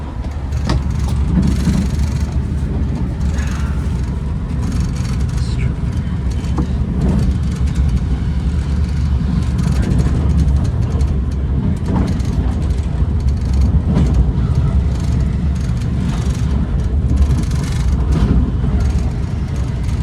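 Continuous low rumble and rattling of a moving northbound Caltrain limited-stop commuter train heard from inside a carriage, steady and loud throughout with faint background murmurs.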